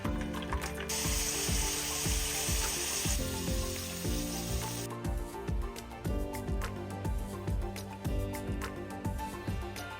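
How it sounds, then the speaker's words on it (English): Fries frying in oil for a lomo saltado dish, with a loud steady sizzle through the first half that fades back, over a rhythmic beat of background music. "Go ahead and fry our fries."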